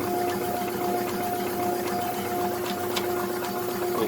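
A Jeep engine runs on a test stand being broken in at raised RPM, a steady, loud mechanical drone with a constant whine and rapid, even pulsing throughout, and no talking.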